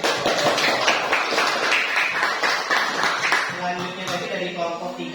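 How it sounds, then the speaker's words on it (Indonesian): A class applauds a group presentation in a school lesson, with busy, fairly loud clapping for several seconds that thins out as talk takes over near the end. "kita berikan tepuk tangan yang meriah"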